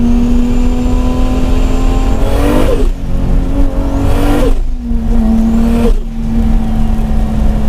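Toyota Supra with a 600 hp single-turbo engine revving hard toward 8000 rpm, a loud roaring climb in pitch broken by three quick shifts, with dense engine and road noise throughout.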